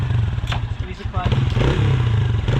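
Dirt bike engine running close by with a steady low, throbbing idle and some faint clatter, while people talk over it.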